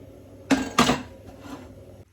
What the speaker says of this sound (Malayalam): ദേ പൊരിക്കാനുള്ള ചട്ടി എടുത്തിട്ടുണ്ട്